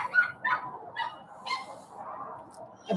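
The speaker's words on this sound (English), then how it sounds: "A lot of dogs barking." A group of dogs bark and yip in the distance, their barks overlapping in an irregular chorus of short calls, with a few louder yelps standing out over the quiet background.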